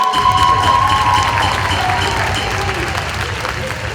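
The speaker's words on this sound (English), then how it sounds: "give me a big round of applause for our 2022 and 2023" Crowd at a university Latino student association pageant night applauding and cheering for team members, steady dense clapping with whoops under a faint sustained tone.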